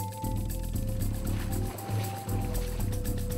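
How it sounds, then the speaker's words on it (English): A long-tail fishing boat driven by a modified automobile engine runs out at sea, its engine droning loudly and continuously with pulsing throb, briefly dipping, over rushing water. "Men typically go out to sea in their fast long-tail boats, powered by cleverly modified automobile engines."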